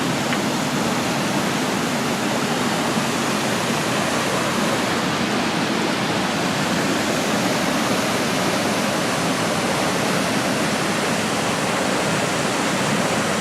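Waterfall at Intestate Falls, recorded up close at the water's edge: a steady, loud, broadband roar of falling water holds unbroken for the whole stretch, with no voices over it.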